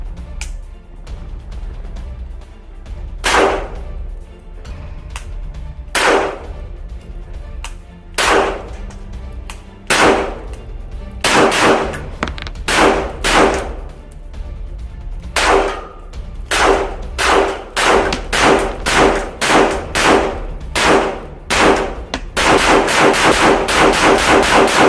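An AK-47 Tula Bakelite rifle fires through its magazines: loud, sharp single shots at irregular intervals early on, then faster strings of cracks and a dense closing burst, each shot ringing briefly.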